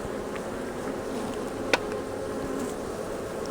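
Honey bees hum around an open beehive during a hive check, a continuous close buzzing drone with a brief sharp knock partway through.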